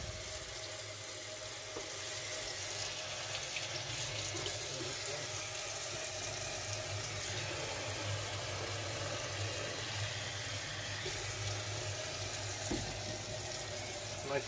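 Lukewarm tap water runs steadily and softly for the whole stretch while a ball python is rinsed off in a sink, a quiet even hiss with no talking.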